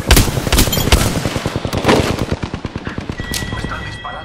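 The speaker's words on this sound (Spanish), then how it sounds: "Me están disparando" Rapid automatic gunfire aimed at the player in Apex Legends, a dense, loud burst of fast repeated shots that thins out and fades over a few seconds, with a voice speaking over it.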